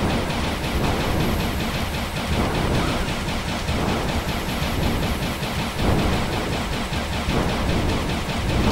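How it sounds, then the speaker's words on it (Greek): Laser blasts in the Sega Saturn game Panzer Dragoon roar like thunder, a dense, loud, continuous rumble with crackling edges that swells and rolls for the whole stretch without a break. "οι κεραυνοί που σκάνε τα λέιζερ είναι φανταστικός"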